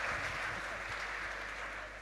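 Audience applause at a Bitcoin history panel in Lugano as a host is welcomed to the stage, a steady wash of clapping from many hands, even and moderately distant.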